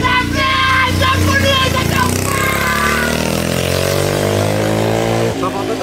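A small motorized cart's engine roars loudly and close, its pitch sweeping down and then climbing as it revs hard, with a brief drop near the end.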